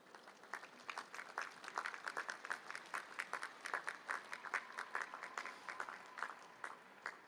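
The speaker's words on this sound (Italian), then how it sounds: "salutiamo loro con un applauso" Applause from an outdoor papal audience crowd holding umbrellas, greeting people watching on screens; quick, distinct claps crackle at moderate distance in a lively, steady patter throughout.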